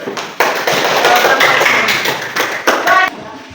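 Classroom clapping during a teaching session, a loud burst of many hands clapping close by for about three seconds, uneven with a few sharper peaks, then stopping abruptly.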